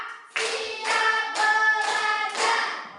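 A classroom of pupils clapping in unison in counted claps, a series of about five strong, evenly spaced group claps heard up close.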